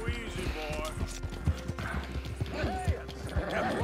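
Horse hooves clip-clop in a steady rhythm in the video game Red Dead Redemption 2, mixed with faint whinnies and game ambience while someone talks over them.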